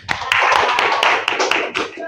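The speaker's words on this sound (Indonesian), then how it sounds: "Kita berikan tepuk tangan yang meriah untuk kelompok 3 dan seluruh kelompok yang sudah tampil." A classroom group applauds after a student group's performance, with a burst of close, uneven hand claps sounding over a voice.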